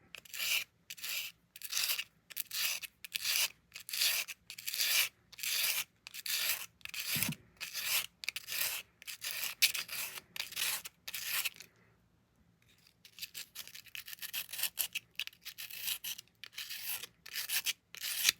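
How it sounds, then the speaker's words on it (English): A Fiskars bypass cutter's blade edge is sharpened with steady back-and-forth rasping strokes, loud, close and evenly rhythmic, pausing briefly before resuming more lightly. "we're going to just clean up the edge and sharpen it"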